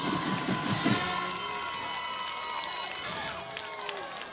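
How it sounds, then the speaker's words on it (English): Football fans in the stands at a high school game cheer and shout, a broad crowd roar that swells early and then holds steady at a distance with scattered whistles and calls. "a big round of applause for the Baker fans"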